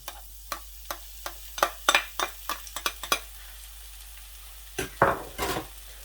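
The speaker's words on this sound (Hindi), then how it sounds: "अभी इसमें प्याज जो है उसको ऐड कर देते हैं।" Chopped onion softening in hot oil in a pan over low heat, marked by a string of sharp spoon clanks and scrapes against the pot over a faint background sizzle.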